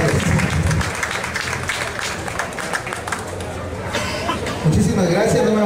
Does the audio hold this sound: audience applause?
yes